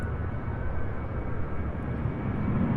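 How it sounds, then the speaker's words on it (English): A Delta passenger jet takes off at Louisville International Airport, a steady, broad engine roar rumbling at a distance with no break across the stretch. "And then it looks like we have a Delta. I'm gonna take off as well."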